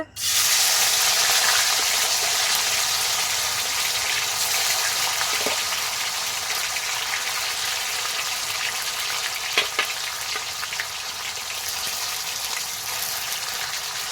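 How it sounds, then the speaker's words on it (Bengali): Paneer cubes frying in well-heated oil for a Bengali-style paneer cauliflower dish, giving a steady, close hiss and sizzle that holds for the whole stretch, with a couple of faint clicks along the way. "প্রথমে পনিরটা ভাজা হচ্ছে"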